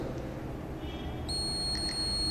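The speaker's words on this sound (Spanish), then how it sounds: "Ese bip bip al final es zona de reposo" Smart TV entering standby mode gives two short high beeps near the end, faint over a steady electronic hum on a repair bench.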